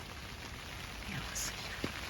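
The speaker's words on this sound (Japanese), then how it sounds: "雨うるさくて寝れないし。" Heavy downpour drumming on a tent at a quiet lakeside campsite, a dense, steady hiss of rain close by with a few louder drops standing out, no voices.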